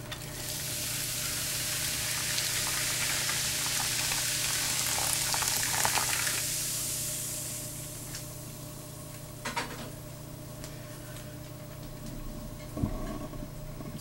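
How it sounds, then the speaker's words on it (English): Boiling water poured over silver coins with baking soda, a fizzing, sizzling hiss that is loud at first and fades after about six seconds into a low steady bubbling, with a few faint clinks. "See them bubbling away there."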